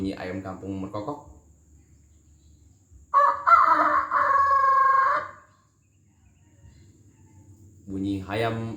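A man mimics a village chicken (ayam kampung) rooster crowing with his voice, a single sustained, bright call lasting about two seconds, close-up, with his brief talk heard on either side.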